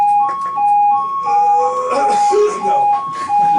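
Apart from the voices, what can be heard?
ambulance siren approaching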